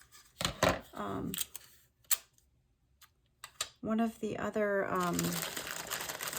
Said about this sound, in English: I'm going to cut one of those out and just add it to a stick